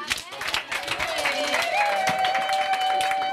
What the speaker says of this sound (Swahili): Hata makofi.